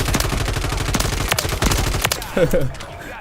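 Rapid sustained Uzi submachine-gun fire in Call of Duty Warzone, loud and close, with dense bursts running for a few seconds before tapering off.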